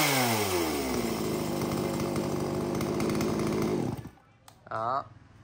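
A Japanese-import chainsaw engine snarls loudly at high revs, winding down and cutting off near the end, followed by a brief restart sputter and rev.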